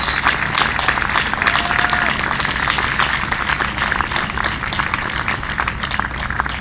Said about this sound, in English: How about one big round of applause for the Gaskill family?